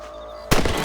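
A single loud rifle gunshot cracks out halfway through, cutting sharply into a quiet outdoor game ambience while hunting rabbits in Red Dead Redemption, followed by ringing echo.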